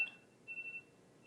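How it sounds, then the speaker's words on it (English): A phone's wake-up alarm beeps faintly in the background, a thin electronic tone sounding in a few quick pulses and then fading out. "my alarm to wake up is going off"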